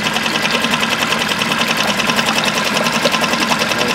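Electric trolling motor on a Pelican Bass Raider 10E boat running close by, a steady fast-pulsing mechanical whir with an even rhythm throughout and no talk.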